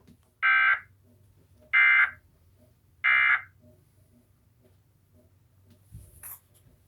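A Pennsylvania Emergency Alert System monthly test sounds three identical loud, harsh buzzing header bursts at an even pace, each about half a second long, followed by a quieter tail over low background hum.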